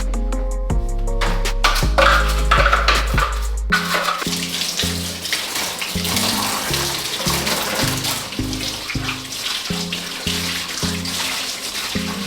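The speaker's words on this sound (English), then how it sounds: "fill the bucket with some clean water" Clean water running from a tap into a bucket for rinsing a hose, a steady close gush with a low rumbling rhythm that continues throughout.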